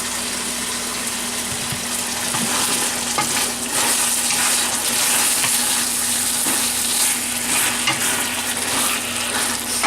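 Chicken stir-frying in a pan with sauce gives a dense, bubbling sizzle stirred with scattered scrapes and clicks, close up, over a steady low hum, with no talking.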